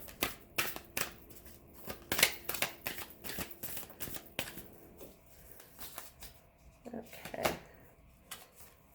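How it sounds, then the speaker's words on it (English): Tarot cards are shuffled and drawn in quick crisp bursts of riffling and flicking, close and fairly quiet, with a voice speaking softly in between. "the last card that we're going to pull"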